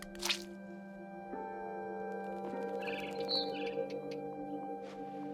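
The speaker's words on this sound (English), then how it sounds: "I hear a bird." A short bird chirp rings out in the video game What Remains of Edith Finch, over a steady tonal ambient hum with faint drips and rustles in the scene.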